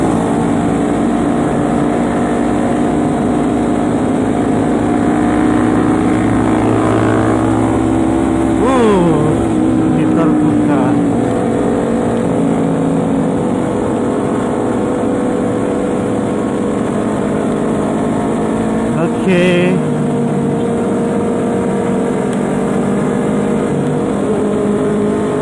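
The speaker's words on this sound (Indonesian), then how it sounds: "Oh, pada ngegas guys." Continuous loud engine roar from several motorcycles on a group Sunday morning ride, with pitch sweeps as engines rev up and down nearby, muffled by wind.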